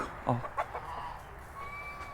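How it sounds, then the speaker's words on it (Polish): A few soft clucks from hens and a rooster nearby on a farm, short and irregular, followed by quiet background ambience. "tam jest kurka, tam jest kogut, tam są trzy kurki i kogut"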